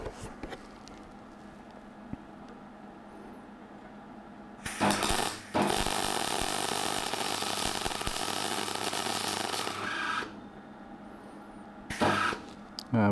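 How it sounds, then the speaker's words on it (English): A cheap $50 welder runs in bursts: a loud steady crackling buzz for about five seconds after a false start, then a short second burst, with a low engine-like hum in the quiet gaps. "But that actually was starting to weld."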